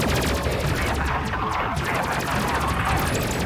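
Rapid bursts of weapon fire in a space combat game, dense overlapping shots forming a continuous loud volley with crackling impacts, fairly close and without pause.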